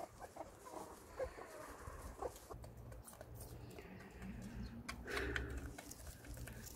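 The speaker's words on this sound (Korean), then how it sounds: "지금 알 품으려는 요 닭 세 마리를 다 이쪽에다 옮겼습니다" Three broody Cheonggye hens moved to a nesting area, giving soft, scattered clucks and low murmurs amid faint rustling, quiet and close with no talk.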